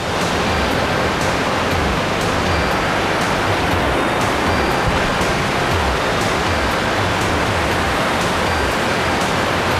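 Kobansky waterfall in a rocky gorge in Ossetia roars loud and close, a dense, unbroken rush of falling water that fills the whole stretch with no voices over it.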